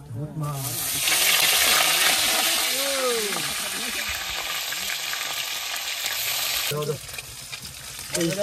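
Fish fry in hot oil in a pan, making a loud, continuous close sizzle that swells and then cuts off near the end, with people talking over it at times.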